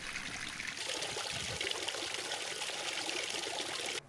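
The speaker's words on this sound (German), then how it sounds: "Es läuft kein Wasser über die Seiten und die Staustufen funktionieren wie geplant" Water flows steadily through a newly built garden stream with stone weirs and a liner pressed down by the water, a continuous close rushing and trickling that stops abruptly at the end.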